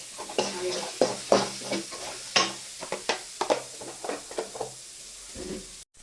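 Curry leaves fry in hot oil in a pan, giving a soft sizzle broken by repeated stirring scrapes and light knocks of a spoon against the pan, close and fairly quiet.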